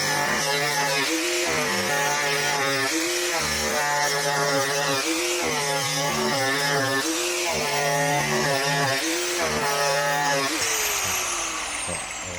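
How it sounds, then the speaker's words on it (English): An angle grinder cuts around a drum shell, giving a loud, steady, whining power-tool drone with a harmonic buzz that holds for about twelve seconds and eases slightly at the end. "when using an angle grinder, what I've done is I've gone round first and that's giving me line"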